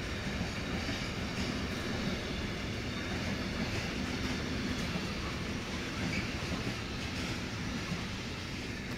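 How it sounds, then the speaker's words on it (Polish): A passenger train rolls steadily past on the tracks at Bischofsheim, a smooth, even rumble and hiss with faint wheel clatter, loud and close, holding constant for the whole stretch with no voices. "Fajny, spokojny bieg tego pociągu, bez hałasu,"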